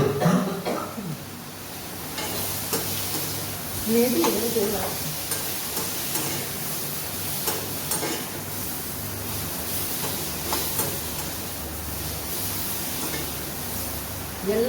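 Ingredients for chutney sautéing in a pan, a steady close sizzle and crackle with occasional stirring scrapes, continuous and fairly loud throughout.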